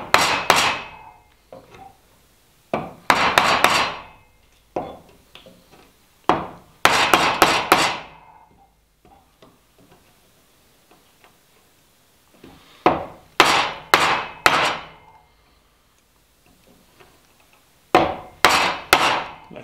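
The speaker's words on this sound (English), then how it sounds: "when you're chiseling against your bevel, it's going to want to drive it in" A chisel is struck with a hammer while timber is cut for a timber frame brace, giving sharp, close wooden knocks in quick clusters of three or four blows, with pauses and softer scraping between the clusters.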